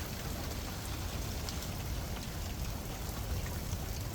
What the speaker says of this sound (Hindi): बादल चल रहे हैं और बारिश हो रही है